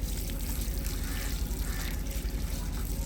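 Water pours steadily from a pipe, a continuous splashing rush that stays loud and close from start to finish, with no talk over it.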